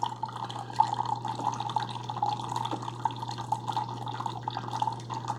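Water dripping around a K-cup inside a Keurig K-Supreme coffee maker fitted with a red plug, a steady faint trickle with soft irregular drips over a constant low machine hum, no talking.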